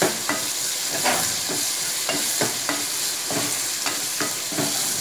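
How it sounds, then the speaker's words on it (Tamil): Tomatoes and mushrooms sautéing for a Chettinad village-style mushroom gravy, a steady close sizzle broken by repeated scraping stirs of a spoon in the pan, with no talking. "தக்காளி உள்ளவெல்லாம் நல்லா வதங்கிடுச்சு"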